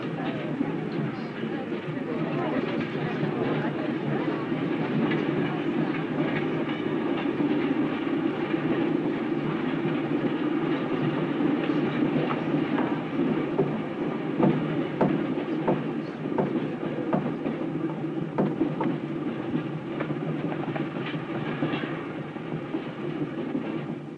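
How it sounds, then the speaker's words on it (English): A train running on the Calais–Paris line in a 1967 film scene, producing a steady, continuous rumble with faint rhythmic clatter throughout, fairly loud and unbroken, with no talking. "Argoman's on the Cali-Paris train."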